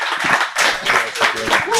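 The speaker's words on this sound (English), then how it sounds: "Patrick Searle, round of applause, everybody" Audience applause at the close of a business talk on community building, a dense wash of clapping that swells and dips over two seconds, with voices talking over it.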